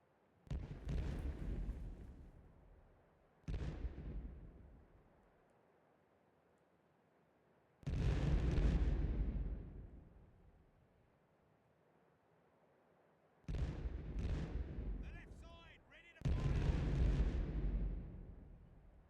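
Heavy cannon broadside volleys from a sailing warship in the pirate-era naval game Caribbean Legend: five loud booming blasts in uneven bursts, each with a long rumbling decay, some overlapping in quick succession.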